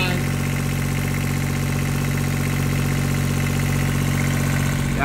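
Universal M25XP marine diesel engine on a boat, stuck at 1900 RPM and not reaching full power, running steadily with a loud, even drone and vibration throughout.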